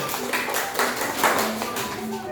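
Students clapping for a group in a classroom, a short burst of scattered hand claps with voices and chatter running underneath.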